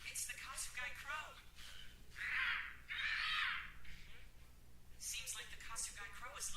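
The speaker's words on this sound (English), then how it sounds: "It's the Kizuke Crow." A Kasugai crow from the Demon Slayer anime caws in harsh, loud calls, mixed with voices talking before and after.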